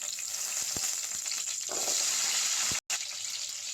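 Small onions with chana dal and urad dal frying in hot oil for a beetroot chutney: a bright, continuous sizzle with a few soft stirring knocks and a brief dropout near the end.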